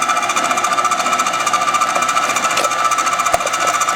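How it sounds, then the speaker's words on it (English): An electric tomato saucing machine runs steadily at close range, giving a continuous dense mechanical whirring and rattling hum with small clicks. "I'm going to put them into our tomato machine, saucing machine. Turn the machine on"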